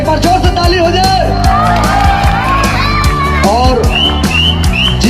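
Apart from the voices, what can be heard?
crowd applauding and cheering at a stage show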